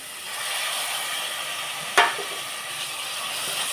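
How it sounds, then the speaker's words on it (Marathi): Masala frying in oil as tomatoes are added and stirred for rasam, a soft steady sizzle with one sharp burst of hiss partway through, fairly quiet and close, no voices. "आता मसाला शिजत आलाय. आता आपण याच्यात टोमॅटो घालून घेऊया."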